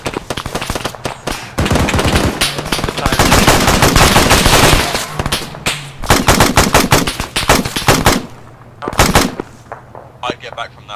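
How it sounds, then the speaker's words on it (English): Gunfire at a military checkpoint, coming from the northeast: loud, rapid automatic bursts and single shots in irregular clusters. The firing thins out toward the end. "Yeah, shots heard northeast."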